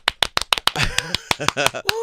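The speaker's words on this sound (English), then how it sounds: "Like, can you clap for yourself?" Sharp, close hand claps, a handful in a quick steady rhythm at first, then continuing more sparsely while a voice talks and vocalizes over them.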